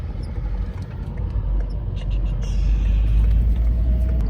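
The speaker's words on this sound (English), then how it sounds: "Wait for this car to go by, and then turn on Industrivej." A car drives past on Industrivej in Denmark, a low road rumble that swells toward the end as it nears, with the faint whine of other traffic in the background.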